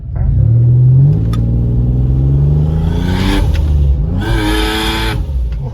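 A Mitsubishi Pajero with a hard-knocking engine launching from a standstill, loud and close, its engine note climbing steeply as it revs, dipping briefly, then surging again into a strained, rumbling roar.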